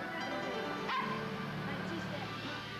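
Two pet dogs bark and yip, with a whimper or two, set under steady narration and a faint background hum; the barks are short and moderately close.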